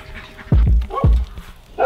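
A house dog barks several times in short, loud, close bursts, with brief gaps between the woofs.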